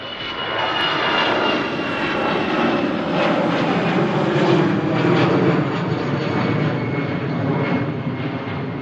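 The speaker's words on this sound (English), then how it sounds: "Emirates A380 heading down to Smithy" An Emirates Airbus A380 airliner on approach to land at Manchester Airport gives a steady, loud, broad engine roar that holds throughout without talk.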